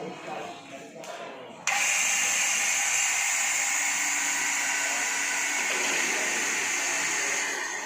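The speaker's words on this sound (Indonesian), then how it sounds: "Lalu kita nyalakan pompa vakum." Vacuum pump switching on in small-scale biodiesel production equipment, a loud steady mechanical whine and hum that starts abruptly and runs continuously after brief quieter background noise.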